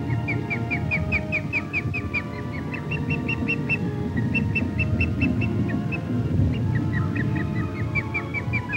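An adult osprey at its nest in the Michigan outdoors gives repeated high, clipped whistling calls in quick runs with short pauses, clear and moderately close over a steady low background rumble.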